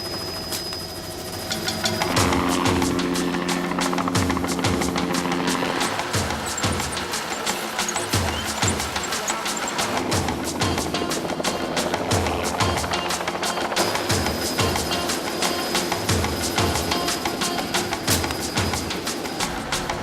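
A helicopter flies low over elephants during a wildlife capture and darting operation in Africa, its steady throbbing drone loud and continuous for the whole stretch.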